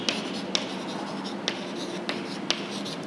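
Pen strokes on paper or a board come from someone writing out an open channel flow calculation by hand. Faint scratching is broken by several sharp taps at irregular intervals, close and fairly loud over steady background noise.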